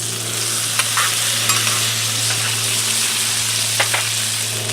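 Minced garlic sizzles loudly with Brussels sprouts and bacon on a Blackstone griddle, a constant close crackling hiss with a few light scrapes of a spatula and a steady low hum beneath, no voices.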